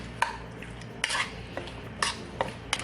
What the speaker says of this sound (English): I'm gonna go ahead and just give it all a good mix